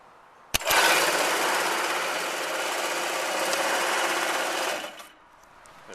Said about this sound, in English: I'll open the cover, I'll hold down the safety switch, and you can see all the belts and things whirring around